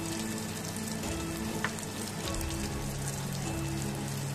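Curry leaves sautéing in a pan for Kerala-style sambhar, a steady soft crackling sizzle with scattered pops, continuous and moderately quiet with no talking.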